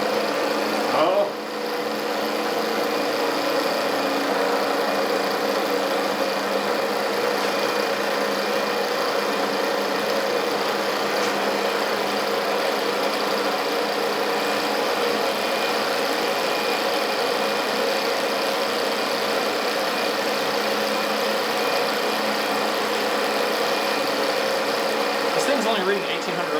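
A Stirling engine runs continuously at close range, a steady mechanical whirring hum that holds throughout with no clear pauses.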